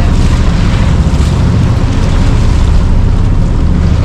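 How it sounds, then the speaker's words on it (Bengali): Heavy rain pours down steadily at Tanguar Haor, a loud, dense, unbroken roar with no pauses, close and filling the whole scene. "প্রচুর পরিমাণে বৃষ্টি পড়তেছে"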